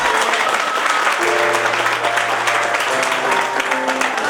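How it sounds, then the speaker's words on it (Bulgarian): Loud, continuous applause from wedding guests at a restaurant celebrating a newlywed couple, dense clapping throughout with festive music tones running underneath. "Аплодисменти за тях!"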